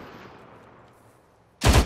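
Arma 3 gunfire on Altis, a single loud, close burst of automatic shots erupting suddenly after a near-silent stretch.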